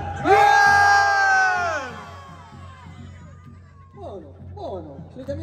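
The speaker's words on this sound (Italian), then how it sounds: "adesso voglio sentire urlare. Prima solo noi uomini" A crowd of men at a live folk festival concert in Polesella yells together on cue, a loud, sustained group shout that trails off into scattered whoops and chatter.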